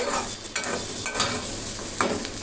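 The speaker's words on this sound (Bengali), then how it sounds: "এই দুই মিনিট দুই তিন মিনিটের মতন একটু ভেজে নিলেই হবে" Onions frying in a pan over medium heat for chicken cheese buns, a steady close sizzle with a few brief scrapes of stirring, no voices.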